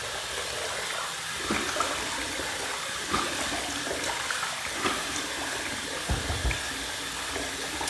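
Water runs steadily from a bathroom tap for several seconds while a face is wetted before a shave, a constant close hiss with faint splashes and small bumps, no talking.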